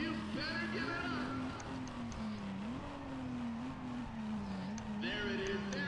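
Race car engines in the video game Need For Speed ProStreet drone steadily with rising and falling pitch, loud and continuous, with brief higher whines and a voice talking over them.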